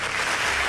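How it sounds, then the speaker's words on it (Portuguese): Congregation applauding at a Brazilian evangelical church service, a brief steady wash of clapping with no break, fairly loud and filling the space. "Aplauda Jesus de Nazaré"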